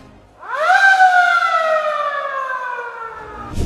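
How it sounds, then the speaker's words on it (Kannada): An emergency-button siren in a city market parking lot rises quickly in pitch and then holds a loud, steady wail with strong overtones for about three seconds before cutting off, with nothing else audible. "ಅದನ್ನ ಪ್ರೆಸ್ ಮಾಡಿದ್ರೆ ಸೈರನ್ ಬರುತ್ತೆ"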